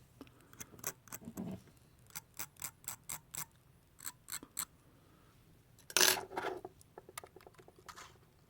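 SS316L vape coil wire in a Tidal/Hive build ticks and clicks as it heats and tightens, a close run of sharp irregular snaps that cluster and then pause, with one louder crackling burst.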